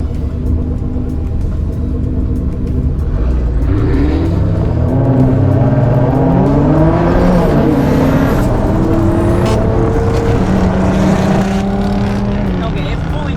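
A Camaro ZL1 races with loud, sustained engine rumble and rising revs, the drone shifting pitch in several stages before power drops off near the end, with voices talking over it.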